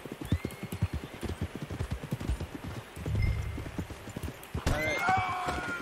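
Horse in Red Dead Redemption 2 trotting with close, rhythmic hoof clip-clops, followed by a loud whinny near the end.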